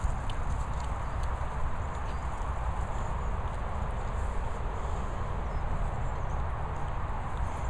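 Horse hooves clip-clop steadily on the ground, a continuous stream of nearby steps with faint rustling, no talk.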